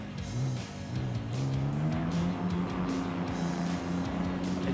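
A Toyota Supra drift car in Logitech G Virtual D1 livery, in a virtual racing game at a Teretonga Park round: high engine revving with rising and falling pitch sweeps and tire squeal, loud and continuous.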